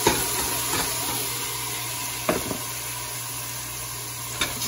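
Soaked glutinous rice sautéing in a pot for lugaw gives off a steady close sizzle and hiss, broken by a few short clinks of stirring.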